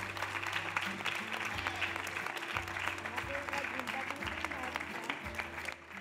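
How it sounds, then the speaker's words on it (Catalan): An audience applauds two women called up on stage at a women's reception and award event, steady clapping running the whole time over a low musical hum. "Un fort aplaudiment per elles"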